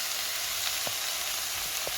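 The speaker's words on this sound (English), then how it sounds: "I just love that sizzling sound." Steady crackling sizzle of chicken chow mein frying in a pan on high heat, with occasional small pops and spits over a constant hiss.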